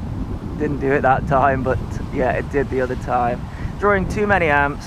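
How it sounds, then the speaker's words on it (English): Wind buffets an outdoor microphone on a gusty day, a constant low roar and rumble running under someone speaking throughout. "Oh, it's windy here today."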